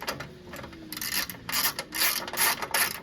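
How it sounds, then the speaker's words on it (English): A hand socket wrench loosens bolts on the side housing of a snowblower, its ratchet clicking in close, repeated bursts of rapid ticks with short pauses between strokes. "we need to remove these three bolts. So take your socket."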